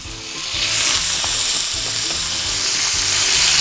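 Prawns sizzle steadily in hot butter and olive oil in a pan, a loud, dense crackling hiss that runs without a break and with no voices.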